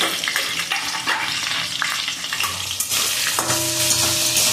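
Spices with salt and turmeric fry in a pan, a close, crackling sizzle mixed with scraping stirs and light clinks of utensil against metal, no voices present.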